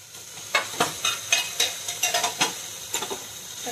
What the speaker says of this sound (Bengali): মশলারে ভালো করে কষায় নেব।